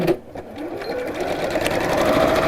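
An electric sewing machine runs steadily as it stitches all the way around the bottom of a fabric bag, a continuous close mechanical whir that stays fairly loud and even throughout.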